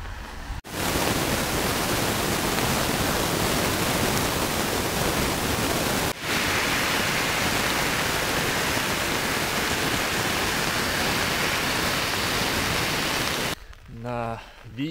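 Strong wind outdoors in a small Lithuanian border town, roaring loudly as continuous broadband buffeting against the microphone for nearly the whole stretch, with brief gaps and someone speaking near the end.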